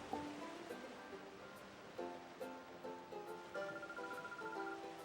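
Sea waves in the Pokemon XD: Gale of Darkness game wash softly and steadily beneath a gentle musical score whose sustained notes shift every second or so, the surf quiet and even throughout.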